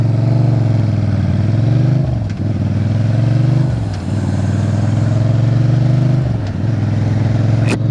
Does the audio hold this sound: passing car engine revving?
yes